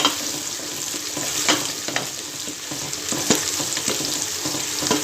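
Chenna with green chili and coriander is stirred in a hot pan, giving a steady sizzling fry with scattered scraping spoon clicks over five seconds.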